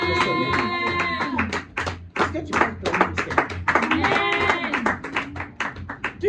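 A church congregation claps rapidly in unison while praising, under a loud preacher's voice and sustained vocal tones.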